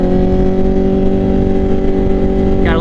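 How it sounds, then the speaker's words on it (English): A motorcycle engine holds a high, steady rev at freeway speed, with a loud, constant, close-up drone and no talk. "Testing it out here. Engine revs are high."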